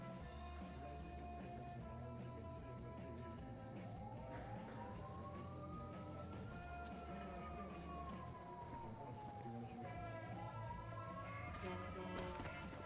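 Police sirens in a video game wail in slow rising and falling sweeps, moderately distant, over a steady hum of in-game background noise.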